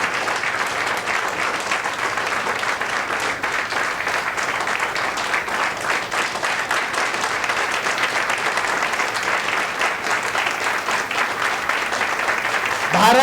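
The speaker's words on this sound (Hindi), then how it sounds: "तो मैं जोरदार तालियों के साथ स्वागत करूंगा डॉक्टर दीपक राणे सर का." Loud, sustained applause from a big audience welcoming Dr. Deepak Rane at a business presentation, steady dense clapping that carries on at high level for over ten seconds, with faint voices mixed into the crowd noise.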